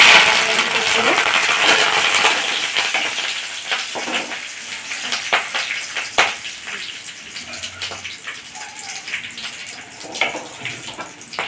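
Cumin and lentils sizzling in hot oil for a South Indian tempering, a bright crackling hiss with scattered sharp pops and spatters, loudest at first and then easing off.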